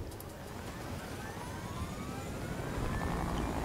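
A helicopter in the Fortnite video game gives off a steady, dense mechanical drone with a slowly rising whine, holding at a constant level throughout.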